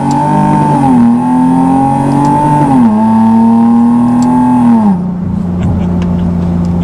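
A 400 WHP supercharged Nissan 370Z accelerates hard through the gears, its loud engine note climbing steadily, then dropping sharply at each of several upshifts before pulling again.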